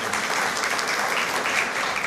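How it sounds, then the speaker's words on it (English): Tepid audience applause at a political talk, a steady dense wash of clapping that holds level and fairly close throughout, with no voices over it. "I noticed that that drew tepid applause"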